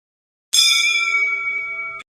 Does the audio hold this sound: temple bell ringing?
yes